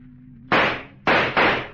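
Three sharp gunshots in a radio drama, crisp and close, the first alone and then two more in quick succession, each with a short decaying tail over a low background hum.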